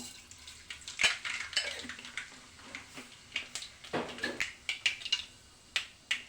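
Mustard seeds crackle and pop in a couple of tablespoons of hot oil, a run of sharp, irregular spits and clicks, fairly close and faint, with no talking.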